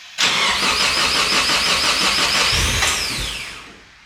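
A Ford AU Falcon's engine cranks on remote start in cold weather, running on ethanol. The starter turns over steadily and loudly for about three seconds without catching, then fades away.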